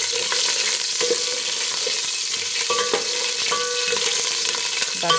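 About a teaspoon of cumin seeds fries in hot oil with a steady, dense sizzle, close and even throughout. Faint stirring clinks and a few soft tonal sounds come through underneath.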